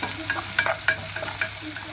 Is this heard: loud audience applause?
no